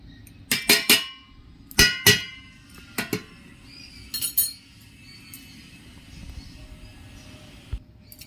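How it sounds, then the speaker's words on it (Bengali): Metal cake-pot lid clinks and clatters as it is lifted off a pot of baking cake, several sharp metallic knocks in quick bursts then fading, close and alone. "এবার ঢাকাটা খুলে নিচ্ছি দেখছি কেকটা হয়ে গেছে কি না"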